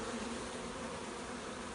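Bees drone in a wild hive nestled inside a tree, a steady, dense buzz that holds at an even level throughout with no voices.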